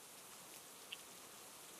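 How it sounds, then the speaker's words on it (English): Steady soft rain in a DDLC mod scene, a faint even hiss of falling drops with one small tick partway, no voices. "Of course it's gonna start raining now."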